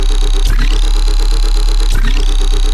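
Lead bass patch built in the Vital synth with the Fury plugin on the end of the chain, a loud, dense, distorted sustained tone with two sweeping pitch swoops, heavy low end and no voices.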